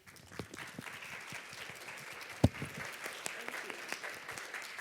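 Sustained audience applause at the end of a conference session, a dense patter of many hands clapping steadily, with a few sharper claps and faint voices underneath.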